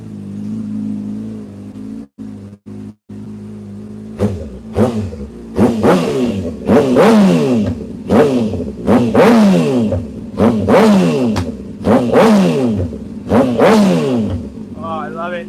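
Motorcycle engine revving hard through its exhaust, a string of sharp throttle blips that rise and fall roughly every second after a brief idle and cutout, loud and close, with someone talking at one point.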